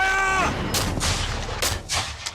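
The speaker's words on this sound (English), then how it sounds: "We load a blank shell filled with black powder for the effect of live fire." A restored World War II cannon fires a blank black-powder shell: a deep, loud boom followed by rumbling echoes rolling away over a couple of seconds, preceded by a brief tonal sound.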